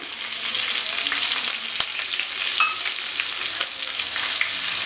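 Curry leaves crackle and sizzle in hot oil for a homemade ashwagandha hair oil, a bright continuous frying hiss with scattered pops and one sharp click from the pan; no one speaks.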